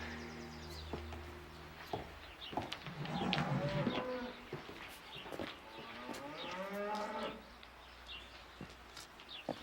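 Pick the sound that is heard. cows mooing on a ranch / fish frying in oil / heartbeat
cows mooing on a ranch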